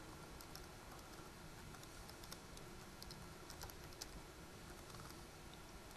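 Password being typed on a computer keyboard during server setup: a run of light, quick key clicks over a steady background hum, with no talking.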